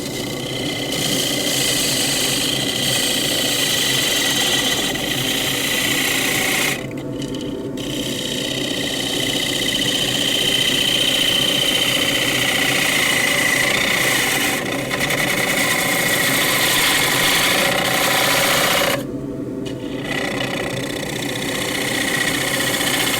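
A 10¼ by 4 inch wooden bowl spinning on a lathe as a tool cuts it, a loud continuous whirring, rushing drone broken by two short pauses.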